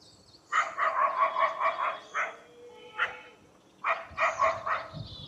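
Street dogs gather and bark over garbage dumped in the street, a close burst of rapid yaps, a short single bark, then another quick run of barks, with no voices.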